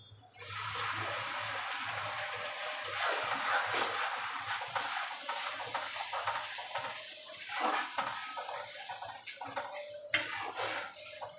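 A paste of poppy seeds, cashews, tomato and green chili fries in a pan, giving a steady sizzle with scraping and stirring clatter throughout.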